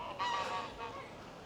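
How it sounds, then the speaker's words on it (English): Geese honking in a noisy burst, several overlapping calls at moderate distance, with a steady outdoor background hum. "the noisy geese"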